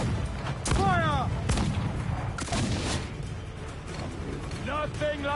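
Ship cannons fire in the game Assassin's Creed 4 Black Flag, with several heavy booms spread out under loud shouting voices and the busy noise of a naval battle.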